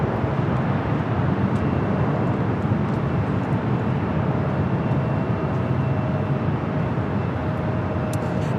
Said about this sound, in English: This is Alaska Airlines 1305 taking off to Seattle on the MAX 8.